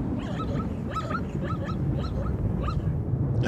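A lame zebra foal gives feeble, high calls in open country, a series of short thin cries repeating about every half second over a steady low wind-like rumble.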